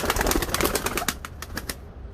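Ballı pigeons in a breeder's loft coo softly while wings flap in quick fluttering bursts close by, with the flapping fading out toward the end.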